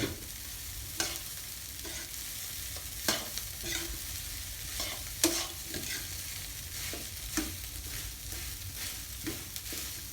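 Rice being stir-fried with canned fish in a hot pan, with repeated scraping strokes of a spatula over a continuous sizzle, close and fairly quiet, with no speech.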